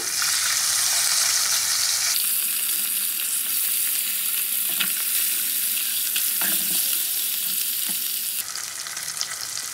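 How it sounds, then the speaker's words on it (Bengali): Katla fish pieces frying in hot oil: a steady, loud sizzle with occasional scraping and clinking as the pieces are turned over, the hiss briefly shifting in level partway through, no speech. "তো 1 পিট করে ভাজা হয়ে গেলে মাছগুলো আমি 1 পিট উল্টে দেবো।"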